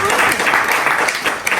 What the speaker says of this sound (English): Round of applause, guys. Round of applause.